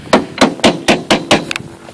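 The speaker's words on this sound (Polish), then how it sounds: "Głosy młotów, gromkie okrzyki" Hammer blows ring out on wood while iceboats are being built, six evenly spaced sharp strikes followed by a quick double tap, loud and close with no voices.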